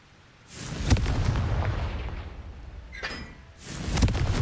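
Blasting spell explosions in Hogwarts Legacy: a deep boom rolls in, then a crackling burst later, with a low rumble that stays loud between the impacts.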